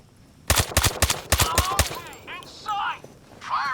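Gunfire in the VR video game Zero Caliber, where a rapid burst of about eight loud, close shots cracks out in quick succession and is followed by quieter game sounds and distant voices.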